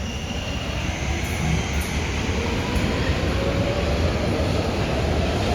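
A Brussels metro train arriving at Delta station gives a loud, continuous rumbling roar with faint high squeals from the wheels, heard alone with no voices.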